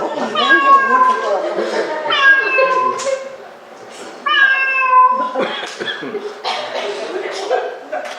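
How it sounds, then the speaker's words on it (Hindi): A cat meows again and again, several loud, drawn-out wailing cries close by, mixed with overlapping voices and some background noise in a domestic scene. "अरे ये बिल्ली को भगाओ।"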